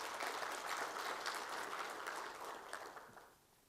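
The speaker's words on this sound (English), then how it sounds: "I think we need to clap for KDIC." A room full of people claps at the KDIC deposit coverage limit launch, a dense burst of applause that holds steady and then trails off at the end.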